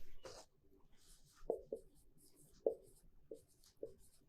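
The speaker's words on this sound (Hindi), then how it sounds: "मैं ऊपर ही लिखूंगा थोड़ा सा, या लिख देता हूं" A pen or marker writes on a board during a current affairs lesson, making faint short squeaks and taps in an uneven rhythm of roughly half a dozen strokes, close and quiet, with no talking.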